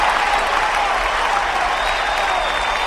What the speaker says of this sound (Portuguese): 5 segundos de palmas para a polícia de Manacapuru.